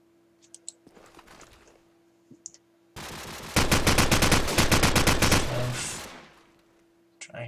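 Rapid automatic gunfire in Call of Duty 4, a promod competitive match on the Backlot map, with a few scattered shots first and then a loud sustained burst that tails off. A commentator's voice is faintly present.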